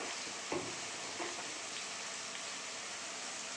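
Spice masala with red chili powder sautéing in a pan for a red crab curry, a steady faint sizzle and fry with a couple of soft stirring knocks, no voices.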